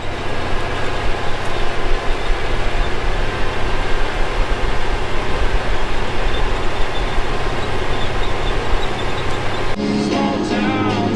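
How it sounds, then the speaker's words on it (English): Tractor pulling a field cultivator through chisel-plowed ground, a steady loud engine drone with heavy low rumble held throughout, shifting near the end as the sound changes character. "running the field cultivator"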